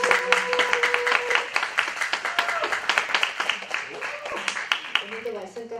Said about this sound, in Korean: 환영의 박수로 같이 축하드립니다